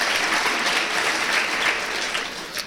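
A stand-up comedy TV show audience applauds and makes noise together, a brief burst of dense crowd clapping that holds strong for a couple of seconds before tapering off.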